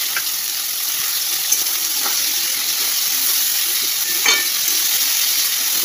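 Shredded cabbage fries in a hot pan for khichuri, with a loud, continuous oily sizzle and a few light clinks and stirring knocks over it.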